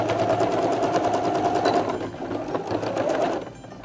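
Sewing machine running steadily as it overstitches the petals of a fabric flower hat, a close, continuous whirring with a brief dip in speed midway before it picks up again.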